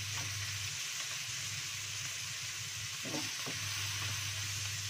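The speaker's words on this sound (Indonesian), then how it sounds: "Kalau sudah agak matang, dituangkan tomat hijaunya tadi sekalian ditumis." Green tomatoes sautéing in a hot pan for a spicy Indonesian tofu and green tomato dish, a steady broadband sizzle with a few scraping stirs near the middle, constant and close.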